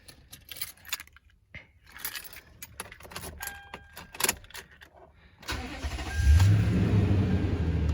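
A car with 211,277 miles on it: keys jingle and click in the ignition, then the engine cranks and catches, settling into a loud, steady close idle.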